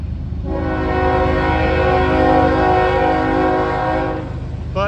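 A CSX freight train passes a railroad crossing as the gates go down, its horn blaring in one long, loud, steady blast close by over the rumble of the cars, then cutting off near the end.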